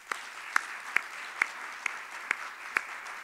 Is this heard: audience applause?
yes